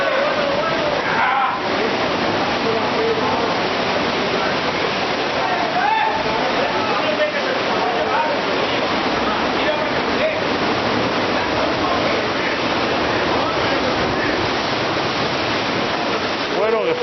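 Sea waves surge and crash continuously inside the Cova dels Arcs coastal cave at Cala dels Testos, a loud, dense roar of churning water filling the space, with voices faintly audible beneath.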